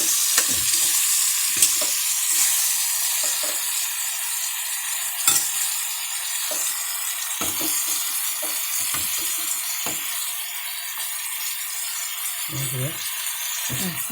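Sliced onions hit a hot pan and fry with a bright, constant sizzle, steady and close, with brief bumps and stirring knocks and a voice talking over it.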